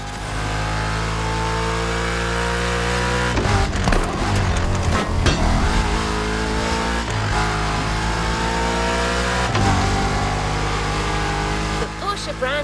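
A Porsche 911 engine revs in The Crew Motorfest racing game, a loud, steady mid-pitched drone with rising and falling surges throughout, mixed with a speaking voice.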